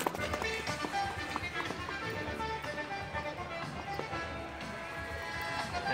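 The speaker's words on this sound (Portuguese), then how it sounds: "Aqui, o menino testando um cavalo aqui" A horse is being tried out at a horse fair, its hooves giving a quick, uneven clip-clop on hard ground amid a busy, noisy crowd and outdoor bustle.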